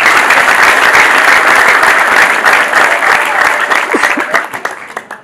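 A church congregation claps together in a loud, dense burst of applause that stays full for several seconds, then thins into scattered individual claps as it fades out.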